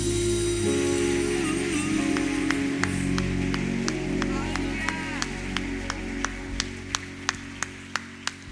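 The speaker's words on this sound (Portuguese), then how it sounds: "Aplauda o Senhor Jesus" A church congregation clapping in time during a worship song, the claps sharp and evenly spaced, growing more distinct over sustained music and singing.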